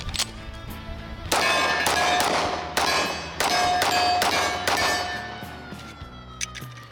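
Wilson Combat X-TAC Elite Commander 1911 pistol fires about six sharp, loud shots in an uneven rhythm, each followed by a long metallic ring before fading into quiet.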